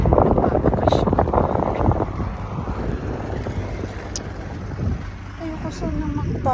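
Wind rumbles against the microphone throughout, with a voice talking over it early on and faint background noise later.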